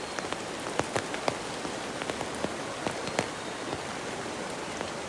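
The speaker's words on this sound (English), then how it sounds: "We have the rain." Steady rain falls by a river in spring, a dense even hiss of drops with scattered louder pattering impacts close by and no voices.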